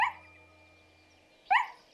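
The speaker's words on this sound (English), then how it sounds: "Just then she heard the sound of barking." A dog in an animated children's show barks twice, sharp and close, the second bark coming about a second and a half after the first, with quiet between.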